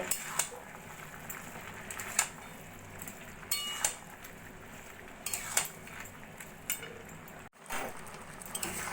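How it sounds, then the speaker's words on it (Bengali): Boiled matar dal is stirred into a bottle gourd greens curry in a pan. Faint spoon clinks and scrapes recur at irregular intervals over a soft bubbling background, with no talking. "ডালটা এবার আমি ভালো করে তরকারির সঙ্গে মিশিয়ে নেব"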